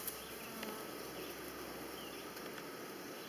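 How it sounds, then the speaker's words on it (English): Honeybees hum around a hive in a corner, giving a steady, even buzz throughout with a few louder passes close by and no talking. "Bees up in that corner."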